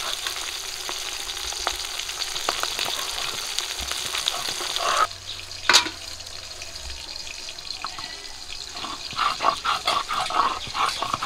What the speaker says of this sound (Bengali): দেখি এবার তেল ছিটকাবে